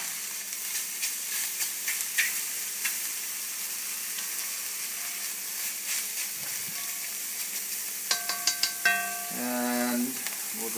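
Egg and mushroom mixture stir-fries in a pan for a wild mushroom ramen dish, a continuous soft sizzle and hiss with a few sharp clinks and scraping stirs near the end.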